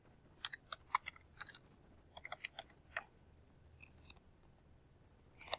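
Typing on a computer keyboard, quiet, irregular bursts of light key clicks with short pauses between clusters.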